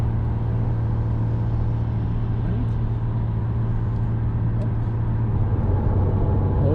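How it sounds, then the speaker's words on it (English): A Porsche 911 Carrera S cruising on the I-81 highway, heard from inside as a steady, loud low engine and road drone with continuous tire rumble, and no talking. "Eddie's driving a Porsche 911 Carrera S, and look, everybody's passing him."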